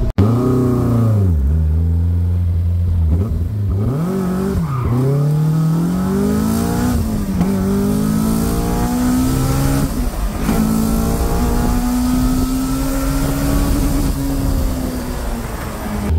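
A Caterham 485 S sports car engine revs hard, pitch rising and falling through repeated throttle blips, then climbing into a long sustained high-rev pull, loud and close from inside the car, with possible tyre squeal.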